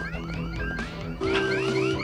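A car alarm blares outdoors with repeating warbling, sweeping electronic tones that shift pattern partway through, loud and continuous with no talking.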